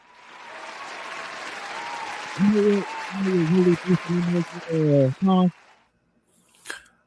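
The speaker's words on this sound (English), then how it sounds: "give him some applause" Studio applause from a small group during an NBA debate show, a steady patter of clapping that fades out. Someone talks loudly over the clapping near the end.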